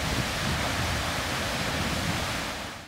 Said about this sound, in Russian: местами оглушительный рев водопадов